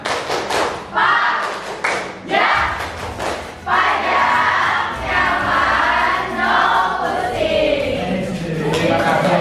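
A school class performs a rhythmic clapping routine, with loud bursts of synchronized claps and thumps followed by a crowd shouting and cheering together.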